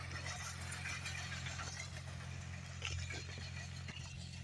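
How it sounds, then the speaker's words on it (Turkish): A farm tractor engine runs at a distance in a village, a low, steady idling hum with light rattles, faint and unbroken, with nobody talking. "Şurada bir traktör çalışıyor"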